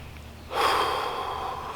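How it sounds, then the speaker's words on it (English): A single deep breath is drawn in audibly and held for a long, close, airy stretch after a moment of quiet, with no talking. "a couple of deep breaths"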